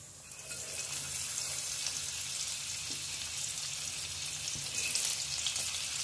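Oil and butter heating in a kadai give a soft, continuous sizzle and crackle, fairly quiet and steady with no talking.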